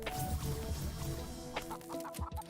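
Chickens in a video game cluck in quick, repeated bursts, several short nasal calls overlapping a steady tonal game background, close and moderately loud with no speech.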